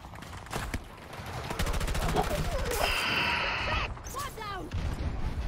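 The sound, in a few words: AM40 gunfire in a video game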